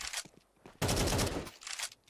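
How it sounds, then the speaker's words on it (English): Rapid automatic gunfire in a Counter-Strike esports match, with a loud sustained burst in the middle and lighter shots around it, fairly close and without voices. "Simki just mows through with the Quadra"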